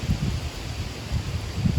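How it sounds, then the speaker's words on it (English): Low, gusty rumble of strong wind buffeting outdoors, pulsing in uneven surges over a steady roar. "The wind's starting to pick up."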